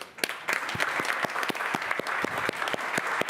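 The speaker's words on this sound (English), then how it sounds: "I think we should give a round of applause to our President Katina." An audience at a county council meeting claps steadily, with many hands producing a dense rattle of claps that carries on without a pause and sounds fairly close, and nobody speaks over it.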